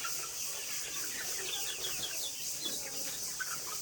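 A large flock of Sonali chickens on a poultry farm keeps up a dense, constant chatter of clucks and chirps, heard faintly from a slight distance.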